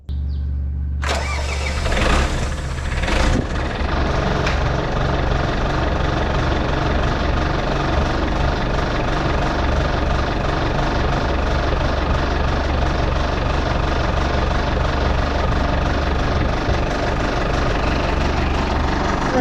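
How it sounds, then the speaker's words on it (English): A cold diesel engine settles into a steady idle right after a rough start, with a deep, continuous rumbling chug that stays loud and close throughout with no talking. "Ain't nothing better than listening to a cold diesel."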